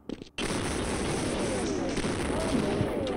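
A weapon fires in the video game Half-Life, a sudden loud blast after a brief quiet moment that rolls on as a dense, sustained roar for about three seconds.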